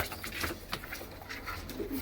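Pigeons coo softly in a loft or cage, low throaty murmurs overlapping one another, fairly faint against a steady background hum.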